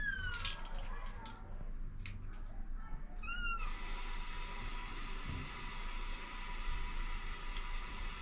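A pet cat meows repeatedly in a home kitchen during pancake preparation, its rising and falling cries clear and close over a steady background hiss, with no talking.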